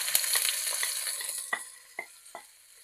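Minced shallot and garlic sizzle in a hot pan with a soft steady fry, punctuated by a few sharp clicks or taps of a utensil against the pan.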